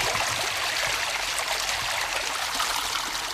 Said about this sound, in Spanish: Un hilo de agua justifica el llamado caudal ecológico.